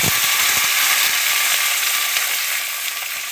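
Cauliflower, stalks, radish, potato and tomato sizzle hard in a pan with mustard seeds, panch phoron, bay leaf and dried chilli, a loud, constant hiss and crackle that eases slightly toward the end.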